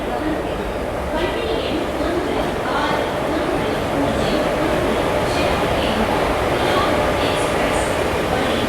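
An express train rumbles past nearby on a South Indian railway line with a continuous heavy roar and rattling, while voices talk over the noise throughout.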